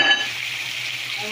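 Meat for Filipino humba drops into a hot pan and sets off a loud, close, steady hiss of frying and sizzling, briefly louder at the start and with no talking.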